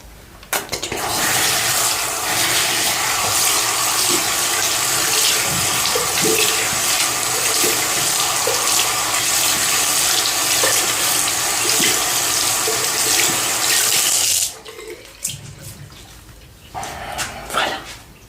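Tap water runs steadily and loudly into a sink while a sponge is rinsed during a skincare routine. The flow stops near the end, leaving a few small splashes and handling sounds.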